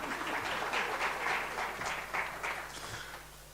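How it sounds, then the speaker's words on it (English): An audience at a university research symposium applauds in a steady, sustained burst of many hands. The applause stays fairly even for a few seconds and then tapers slightly at the end. "You can clap for yourselves."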